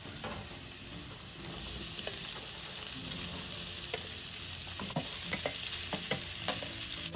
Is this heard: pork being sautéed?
yes